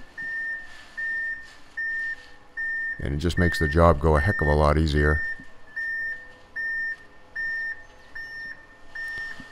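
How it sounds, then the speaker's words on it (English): Concrete truck backing in at a garage floor pour, sounding regular, evenly spaced reversing beeps that continue steadily, while someone talks briefly over them partway through. "That second truck's backing in."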